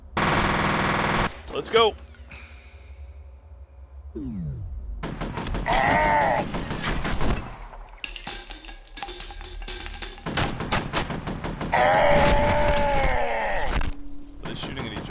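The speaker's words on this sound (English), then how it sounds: "be running into two forces shooting at each other here" Two forces trading gunfire in the video game F.E.A.R.: loud bursts of automatic fire broken by short quiet gaps, with game voices and effects between the volleys.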